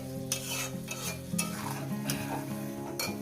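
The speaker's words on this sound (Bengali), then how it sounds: "আমি মশলার সঙ্গে কষিয়ে যতক্ষণ না মশলা থেকে তেলটা আলাদা হয়ে যাচ্ছে" Potatoes and spice paste sauté in oil for a peas-and-potato aloo dum, a steady close sizzle with repeated scraping stir strokes and occasional utensil clinks, over a low tonal hum.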